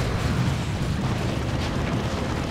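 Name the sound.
Imperial Abyss ability explosion in Dawn of War 2 video game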